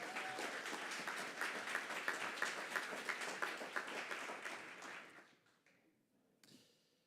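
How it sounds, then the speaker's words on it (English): Audience applause for a school band at a morning convening event, a broad sustained clapping crowd that fades out after about five seconds into near quiet. "One more round of applause for our wonderful band."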